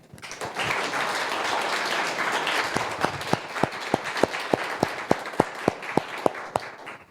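Audience applause at an evening event on ChatGPT and generative AI, thanking the sponsors: a broad wash of many hands clapping that settles into a steady, loud rhythmic clap near the end.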